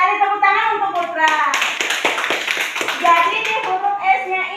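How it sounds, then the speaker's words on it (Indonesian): Children in a classroom clap together for a classmate, a short burst of hand claps mixed with young voices and chatter. "tepuk tangan untuk Putra."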